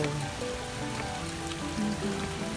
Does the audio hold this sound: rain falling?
yes